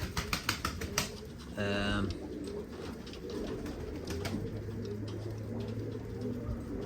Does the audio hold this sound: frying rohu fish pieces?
no